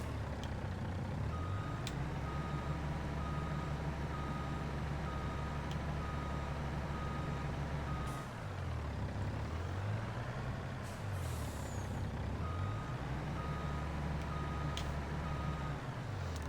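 A truck reversing in Farming Simulator 22 at a gold mining site gives a steady series of loud reversing beeps over a low diesel engine rumble, with air brake hisses between runs.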